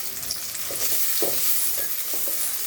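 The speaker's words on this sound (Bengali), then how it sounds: "এরপর আমি নাড়াচাড়া করব।" Fried rice with garlic and sliced green chilies being stirred in a pan, a continuous close sizzle broken by several rhythmic scraping strokes of the spatula.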